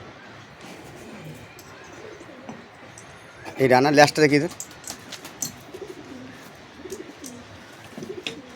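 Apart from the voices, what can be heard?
Teddy pigeons cooing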